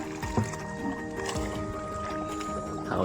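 Water splashing and dribbling as a small fishing rowboat is paddled along a creek, with soft sloshes and faint background noise.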